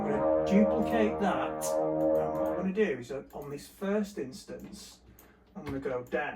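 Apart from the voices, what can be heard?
No distinct noise like a dog, phone or traffic.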